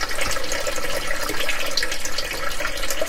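A kitchen tap runs full into a sink as stew beef is rinsed under it, a steady close splashing rush of water with slight shifts as the meat is moved, no speech.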